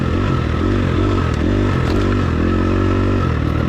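A motorcycle engine droning loud and close while riding, holding a steady throttle with slight rises and dips in pitch, plus some rattle and wind, with no talking.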